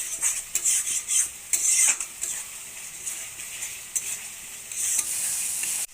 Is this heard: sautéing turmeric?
yes